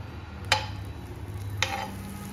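Refined oil and Amul butter heat in a nonstick pan with a faint, steady sizzle, broken by two brief scraping stirs and no voices.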